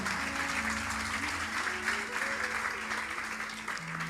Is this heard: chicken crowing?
no